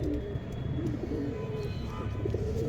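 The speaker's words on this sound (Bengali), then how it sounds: "পায়রা দেখাচ্ছে দাদা, এটাও ফুলশিরা আন্ধ্রা পায়রা" A fulshira Andhra pigeon cooing among other pigeons in a loft, with low, steady, rolling coos repeating over a constant background murmur of birds, close and moderately loud.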